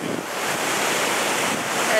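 Big waves crash at a beach in a brief, close, continuous rush of surf, with wind buffeting the microphone.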